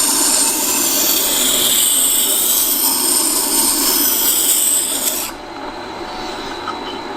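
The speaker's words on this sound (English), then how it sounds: "I'm going to keep grinding until I see a burr being created on the inside of this spindle gouge." A bench grinder sharpens a woodturning spindle gouge, giving a loud, steady, rasping grind that drops away near the end to a lower, fading whir.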